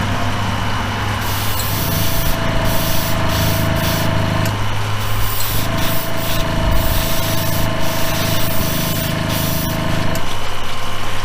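An airbrush or spray gun hisses steadily while coating a Superbird diecast model in Spectre Flame Blue, holding a continuous airy spray with a faint tonal whine and short pauses between passes.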